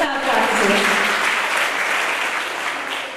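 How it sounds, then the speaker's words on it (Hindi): Loud applause from a crowd at a girls' school event for a class, a dense wash of clapping close and full throughout, with voices mixed in beneath it. "तो जोरदार तालियां करिए श्रेष्ठा क्लास से।"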